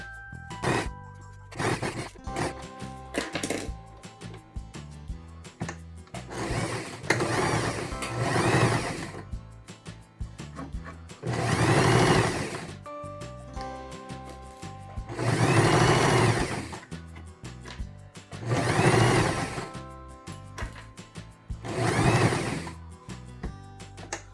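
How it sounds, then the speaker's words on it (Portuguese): Domestic sewing machine stitching a fabric baby bib: several bursts of fast, steady mechanical whirring lasting a few seconds each, separated by short pauses with small clicks, close and fairly loud, with no voices. "eu vou passar uma costura novamente aqui na pontinha"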